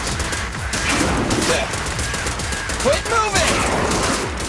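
Rapid gunfire rattles through a Zenless Zone Zero battle, a dense stream of close, loud shots running the whole time while a character's voice calls out over the shooting.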